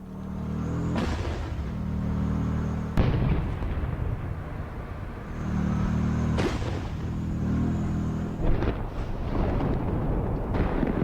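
Tank cannon shots and explosions in a Russian–Ukrainian tank battle, several heavy booms arriving at intervals of a few seconds, each with a sharp crack and a long rumbling tail, loud and close.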